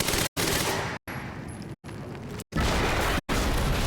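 Rapid bursts of automatic gunfire in the video game Quantum Break, loud and continuous, broken by several brief dead silences between volleys.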